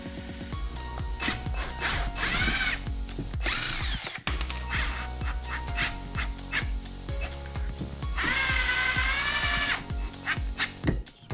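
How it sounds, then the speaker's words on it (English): A power drill whines loudly into stainless steel in repeated bursts, its pitch wavering as it bites, with short pauses between runs and faint barking behind. "We're going to drill the actual holes that we need for it"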